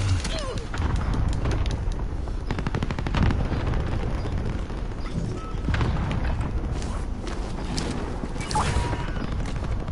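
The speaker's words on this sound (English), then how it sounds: "Watch out, DMR shot." Continuous gunfire in Call of Duty Warzone: shots from a DMR rifle mixed with other weapons, a steady loud barrage of cracks and rapid bursts across the whole stretch, with faint voice chatter beneath.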